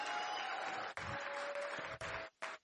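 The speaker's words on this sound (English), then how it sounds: "give a round of applause to Dr. Eric." Audience applause at a product reveal event, a dense wash of clapping that breaks off briefly a few times before resuming, fairly quiet and without talk.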